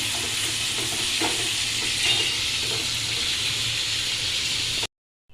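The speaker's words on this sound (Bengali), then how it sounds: "এদিকে চিংড়ি ভাজা হচ্ছে" Shrimp fry in a pan on a home stove, giving a steady, close hiss of sizzling oil with faint scraping or stirring, before it cuts to silence at the end.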